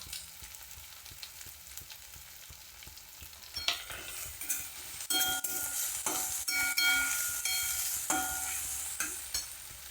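Turmeric and curry leaves crackling and sizzling in hot oil for an eggplant bharit tempering, quiet at first then bursting louder with rapid pops and clinks of a utensil, close by.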